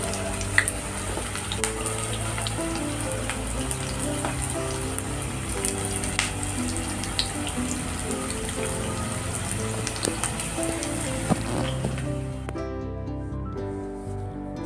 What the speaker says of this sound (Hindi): तो एक एक कर हमने पकौड़ियाँ डाल दी हैं।